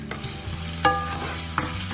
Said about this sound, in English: we're going in with our ginger first. And we're just going to saute this for a few seconds.